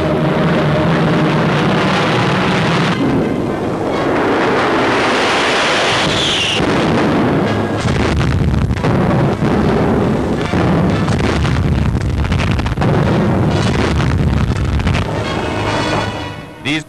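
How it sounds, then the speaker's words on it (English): Wartime Luftwaffe aerial bombing of Greece on archival film: a dense, continuous roar of heavy explosions and rumbling blasts, loud and unbroken, with aircraft noise woven through. "The Luftwaffe bombing Greece almost at will because we hadn't enough planes with which to beat them back."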